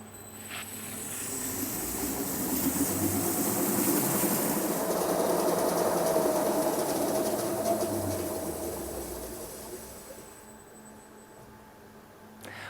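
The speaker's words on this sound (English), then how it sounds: "I'm gonna take the machine to 200 meters per minute" An LR250+ inspection rewinder spins near its 200 m/min top speed with a smooth mechanical whir that swells, holds steady, then gently winds down as the machine slows to a soft stop.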